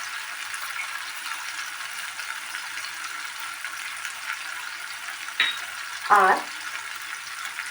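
Mustard bhetki fish curry being sautéed in a pan: a steady low sizzle with a couple of brief spoon scrapes and stirring clatters near the end, a single word spoken faintly.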